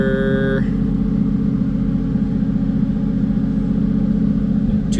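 A Toyota 1JZ engine fitted in a Nissan Silvia drones loudly and steadily on a dyno, a constant deep rumble held throughout, with a brief higher whine at the start and a short shift near the end.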